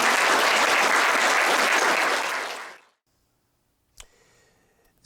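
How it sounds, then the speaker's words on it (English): An audience at a Nevada Highway Patrol event breaks into loud applause for nearly three seconds, then it cuts off into near silence, with a couple of faint knocks afterward. "Let's give them a round of applause."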